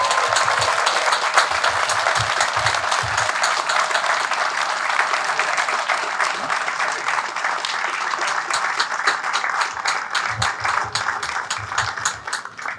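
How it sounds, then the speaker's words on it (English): An audience gives sustained applause for police officers at a police cadet graduation ceremony, a dense, even clapping that holds for several seconds before tapering off. "give a round of applause for the officers who have been doing a tremendous job"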